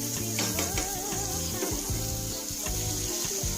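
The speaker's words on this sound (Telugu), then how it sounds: "మనం పెట్టిన పోపు పూర్తిగా వేగింది. తరువాత మనం ముందుగా ఫస్ట్ మిగిల్చుకున్న ఆనియన్స్, టమాటో ముక్కల్ని వేసాము." Onion and tomato pieces sizzling in hot tempering oil in a pan, a steady bright crackle with gentle bubbling that holds throughout, faint background music underneath.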